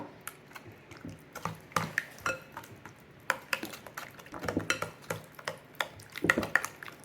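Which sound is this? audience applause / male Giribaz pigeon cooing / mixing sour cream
mixing sour cream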